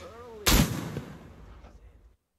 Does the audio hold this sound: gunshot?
yes